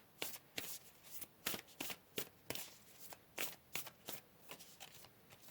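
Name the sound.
tarot cards being shuffled and pulled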